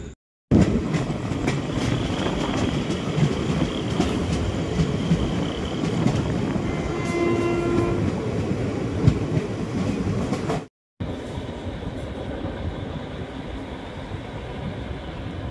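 The Secunderabad superfast express rolls along the rails near Dornakal Junction, a continuous loud rumble of wheels and carriages with clicking over joints, broken by a short dropout before the running sound resumes.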